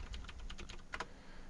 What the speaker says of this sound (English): we can type in notes